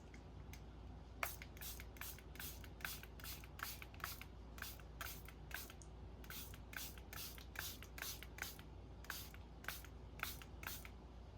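A spray bottle of shimmer spray fires onto paper cards in quick repeated spritzes, dozens of short hissing bursts in an uneven rhythm, close and fairly quiet.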